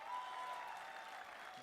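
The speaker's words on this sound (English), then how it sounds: "A big round of applause for our Vice Chief Coordinator" Applause from a seminar audience at a digital and telecom event, dense steady clapping throughout, moderately distant and uninterrupted.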